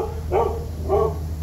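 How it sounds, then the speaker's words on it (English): Two short dog barks a moment apart, moderately close, over a low steady background hum. "Neighbor's dogs. It's happy hour for the dogs because they all go nuts about this time."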